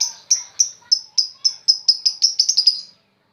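A lovebird gives a rapid series of about a dozen sharp, high chirps, close and loud, speeding up toward the end before stopping, with no other sound around it.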